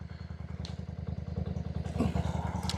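A 30-year-old 535 motorcycle engine in pristine condition running at a steady idle, with a rapid, even thumping pulse close to the microphone and no talking.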